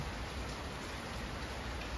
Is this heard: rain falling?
yes